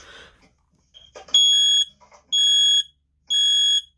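A 9120B smoke alarm under test sounds three loud, steady electronic alarm blasts in a regular rhythm, preceded by brief rough, gargling chirps and a little faint talk at the start.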